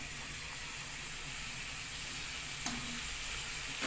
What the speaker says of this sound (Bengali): টমেটো কুচি দিয়ে দিলাম।